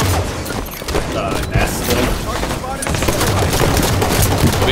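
Halo gunshots rattle in dense, continuous rapid fire throughout, loud and close, with players talking over the shooting.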